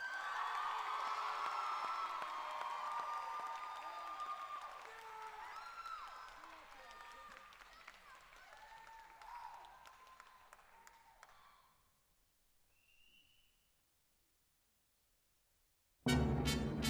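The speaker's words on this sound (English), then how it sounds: "Let's give a round of applause for Byron Nelson High School's performance of Matilda" Applause and some cheering from a high school audience after a student performance of the musical Matilda swell loudly at the start and fade gradually, then fall to near silence before an abrupt burst at the end.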